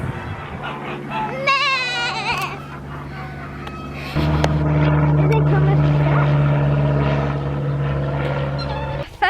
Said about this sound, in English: And they've got goats.